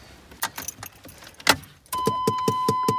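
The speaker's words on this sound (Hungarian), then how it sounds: "ez a klímakompresszor be van akadva" A stuck air-conditioning compressor in a Chevy rattles with a quick, evenly spaced clatter over a steady whine, after a stretch of looser, irregular knocking inside the car.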